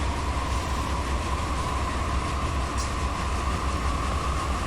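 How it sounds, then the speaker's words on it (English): A heavy rock freight train hauling about 9,000 tons in Run 8 Train Simulator, a dense continuous rumble and roar of rolling cars with a steady droning tone, loud and unbroken, no voices. "This train's probably going to need air in addition to dynamics"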